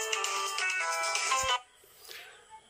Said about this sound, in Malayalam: സൗദി നമ്പറാണ്, കോൾ വന്നിട്ടുണ്ട്. അപ്പോൾ നമുക്ക് എടുത്തു നോക്കാം.